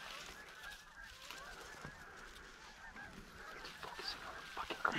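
Geese honking outdoors during a mallard duck hunt, scattered calls at moderate distance over steady background noise, growing a little louder toward the end.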